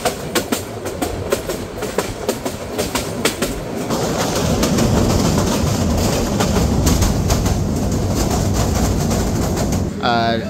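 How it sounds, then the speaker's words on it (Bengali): A train moves at Sylhet railway station before sunrise, wheels clattering in a rhythmic clickety-clack that builds into a loud, steady rumble close by, with faint birdsong early on. "এটা হলো সিলেট রেলওয়ে স্টেশন।"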